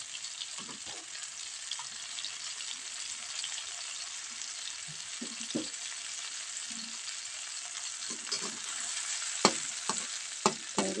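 Water spinach stir-frying in a pan, a continuous bright sizzle with occasional clanks and scrapes of the spatula stirring, close and steady throughout.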